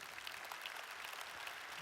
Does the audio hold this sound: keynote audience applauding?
yes